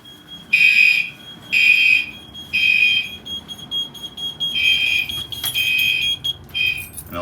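A fire alarm panel sounds during a system test, sending out loud, shrill electronic pulses roughly once a second, with the later pulses shorter and less even.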